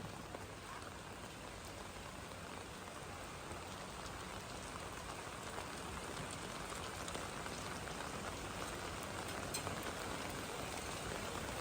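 Heavy typhoon rain falls as a dense, steady hiss that stays even and continuous throughout, with no voices.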